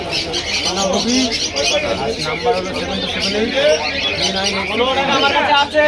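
Pigeons coo and chirp throughout a busy pigeon market in Krishnagar, under steady crowd chatter and nearby voices talking.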